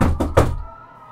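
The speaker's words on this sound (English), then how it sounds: "He was aroused from it by another knock at the front door." Three sharp knocks strike a front door in quick succession, close and solid, then the sound dies away into quiet.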